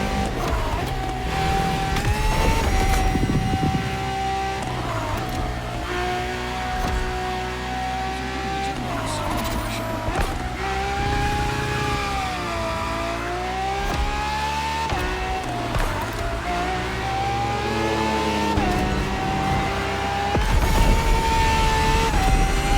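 A Ferrari F80 supercar engine revving hard and pulling through gears, with a loud rising and falling whine and clear pitch sweeps as it accelerates and shifts, close and continuous with no talk.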